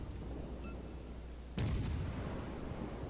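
Naval guns of the upgraded cruiser Duca D'Aosta fire in World of Warships, one sudden heavy boom followed by a rolling low rumble, loud and close over steady engine and sea noise.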